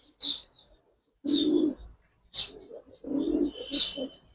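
Giribaz pigeons at a pigeon farm make a few short separate bursts of cooing and chirping, near and fairly loud, with quiet gaps between them.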